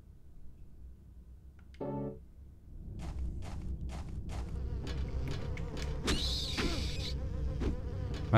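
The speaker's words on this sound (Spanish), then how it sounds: "Son como murciélagos, pero que suenan como moscas." Flying creatures in Silent Hill 4: The Room give off a fly-like buzzing that swells after a brief tonal blip, staying steady and close over a low ambient rumble with sharp clicks.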